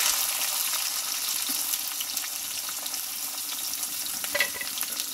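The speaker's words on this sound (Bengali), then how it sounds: "আলুটা একটু ভালো করে কষে নেবো আমি" Potatoes stir-fry in a pan with bay leaf and a five-spice tempering, giving a soft, continuous sizzle broken by occasional scraping stirs. No voices are present.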